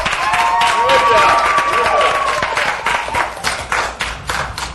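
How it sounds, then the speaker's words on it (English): An audience claps and cheers for Eric, a dense burst of applause that swells and then thins into scattered claps, with a voice talking over it. "let's give Eric an applause"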